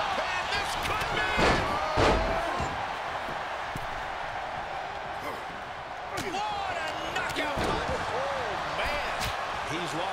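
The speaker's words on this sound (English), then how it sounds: "Sidewalk slam. Almost drove him through the ring." In the WWE 2K23 wrestling game, wrestlers are slammed onto the ring mat with repeated heavy, booming thuds, heard under crowd noise and excited commentary.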